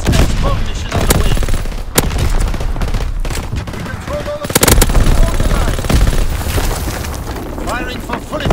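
Rapid machine-gun bursts and booming explosions from a strafing run in Call of Duty: WWII, Domination mode on the Shipment 1944 map, loud and continuous with sharp impact peaks around two and five seconds, game voice callouts mixed in.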